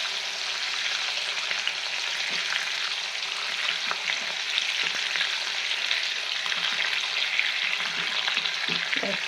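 Stingray fish frying in a pan, a steady dense sizzle that holds for the whole stretch with small pops and the odd stir scraping through it, close and fairly loud, no voices.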